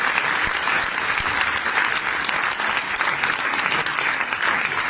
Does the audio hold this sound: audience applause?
yes